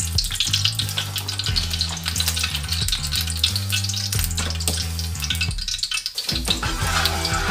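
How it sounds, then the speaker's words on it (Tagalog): Garlic and onion sauté in a little oil in a pan for creamy mushroom chicken, giving a steady, close sizzle throughout with music playing over it. "So, una natin igigisa yung bawang sibuyas."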